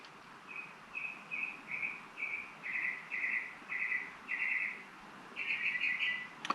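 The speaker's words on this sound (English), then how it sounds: "Them birds is chatting with me." A bird outdoors repeats a series of short high chirps in an even rhythm, about ten in a row, moderately faint against a quiet background with no talk.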